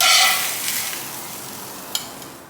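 Beef shanks sear in a hot pan for birria tacos, a loud close sizzle that fades gradually, with one brief clink partway through.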